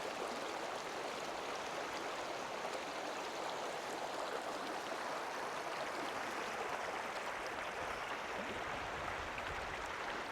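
A creek or river beside a deep hole in southwest Colorado, with a steady, even rush of flowing water throughout that is continuous and moderately distant, and no other sounds.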